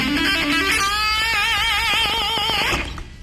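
Sustained distorted electric guitar lick in an intense rock style, with a wide vibrato-laden held note and fast repeated picked notes, loud and close, with no voices.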